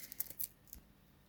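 A small piece of Plastigauge wax strip is snipped during a rod bearing job on a Mini R53, giving a few quiet, sharp cuts close by with near-silence between them.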